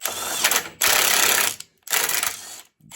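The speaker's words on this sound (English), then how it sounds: "nut up and down a few times to clean the threads." Nut being run up and down the dirty threads of a bolt on an old Ski-Doo Elan snowmobile, giving close, loud gritty ratcheting scrapes in three sustained bursts with short pauses between.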